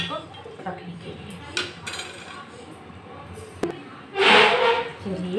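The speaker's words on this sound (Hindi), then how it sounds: "चलिए तो फिर हम ढक देते हैं अच्छी तरह से इसको पकने के लिए।" A metal lid set onto a cooking pot of tomato chutney on the stove, giving a sharp clattering clink near the end while someone talks over kitchen clatter.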